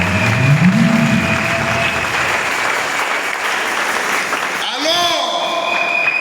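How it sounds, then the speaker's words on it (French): A wedding congregation applauds in a church, steady dense clapping with a sung or shouted voice over it near the start, then trailing off into a brief ringing, wavering tone. "Une acclamation au Seigneur Jésus."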